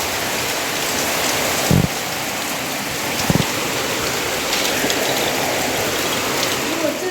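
A thick, even downpour hisses without pause, broken by a couple of brief knocks as water drums on something close.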